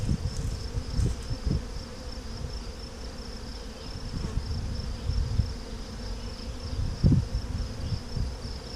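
A steady, dense hum of many honeybees buzzing close around an open hive during inspection, with soft thumps and rustles beneath and no voices.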